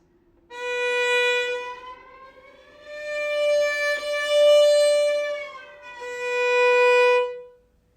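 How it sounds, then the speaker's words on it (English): Three sustained, pure bowed violin tones with rich harmonics, the pitch gliding slightly between them during position shifts, sounding almost like a flageolet harmonic, played alone and fairly close. "And in between there is almost like playing a flageolet."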